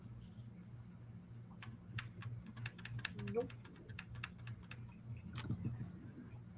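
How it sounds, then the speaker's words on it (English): Computer keyboard keys click in irregular bursts as someone tries to fix the keyboard, fairly close, with a brief spoken word partway through. "If you hear me clicking away, it's still me trying to fix the keyboard"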